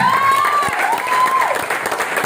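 Audience applause for PT BES at a talk on turning sound into money, a dense steady wash of clapping with a sustained whistle-like tone running through it.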